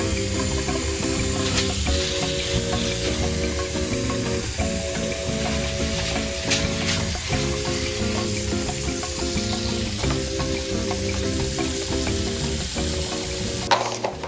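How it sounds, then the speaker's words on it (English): Steady running water splashes over a canister filter's carbon bag as it is rinsed, a continuous close hiss with faint clinks and shifts, no talking. "you need to rinse the carbon bag before you actually set up the filter"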